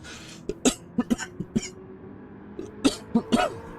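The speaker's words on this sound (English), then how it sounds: "that's still got that cough" A person coughs repeatedly up close, two clusters of short harsh barks with a brief pause between, sounding like a lingering chesty cough, with no talking.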